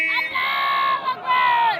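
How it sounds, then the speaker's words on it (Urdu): At a religious gathering at a dargah in Khambhat, a large crowd roars back in response to a Nara-e-Takbeer chant. It comes as two loud, sustained unison shouts with a brief dip between them. "پورا مجمع ہاتھوں کو بلند کر کے بتائے نعرے تکبیر"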